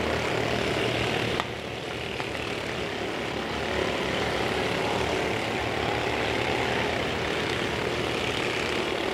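Supercup race cars roar around Tomah-Sparta Speedway late in a feature race, a loud, continuous blended engine drone with no voices over it.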